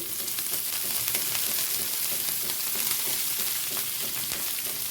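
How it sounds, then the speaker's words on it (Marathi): Onion, green chilli and chopped red leafy vegetable sautéing in a hot pan, a steady close sizzle with light stirring scrapes throughout, no talking. "त्याला आता जरासं परतून घेऊया"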